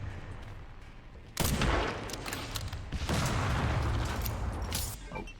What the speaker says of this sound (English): as you can already tell by the mortar shell coming towards us